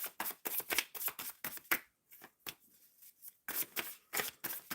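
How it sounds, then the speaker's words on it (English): Tarot cards shuffled by hand in quick riffling bursts, close and crisp, with a short pause midway before the rapid shuffling resumes; no talking. "Shuffling for Rezia"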